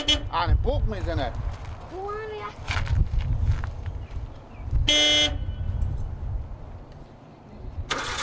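Two short, loud car horn blasts cut through the scene, coming between people talking and the sound of a vehicle engine being cranked.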